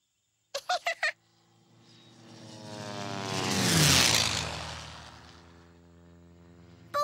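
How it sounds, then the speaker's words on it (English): In a cartoon, a loud airplane passes overhead, its droning roar swelling to a peak and then fading away. A few short chirping notes come before it, and a brief sound cuts in at the end. "did you see that plane? I saw it. Did you hear how loud it was?"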